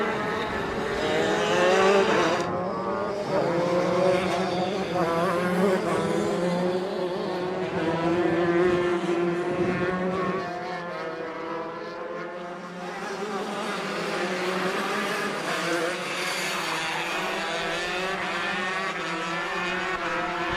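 Shifter karts racing at Adams Motorsports Park in a winter karting league, engines howling loud and close with rising and falling pitch as several karts pass and shift gears through the corners.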